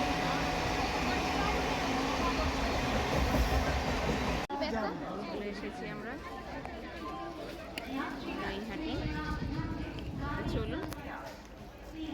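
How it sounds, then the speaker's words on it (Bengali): Two trains running side by side, a loud, steady rumble of wheels and carriages with rhythmic clatter, with people talking over it. "দুটো ট্রেন পাশাপাশি যাচ্ছে দেখতে কি সুন্দর লাগছে"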